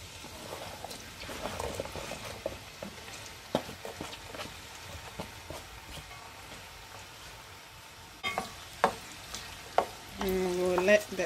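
Sliced onions fry in hot oil in a pan with a steady crackling sizzle, broken by utensil clinks and stirring, and the frying grows louder and busier toward the end.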